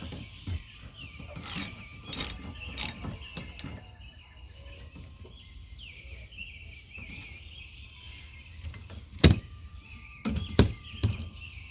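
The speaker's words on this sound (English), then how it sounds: "Start the nut. And then I can lift the blade to tighten it up." A ratchet tightening the nut on a windshield wiper arm, with short bursts of clicking pawl strokes spread across the clip, close up, over quiet outdoor background with faint birds.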